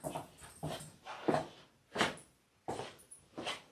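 A dog whimpers and yips in short repeated bursts, about six high whines spaced unevenly over a few seconds, fairly close and alone with no talk.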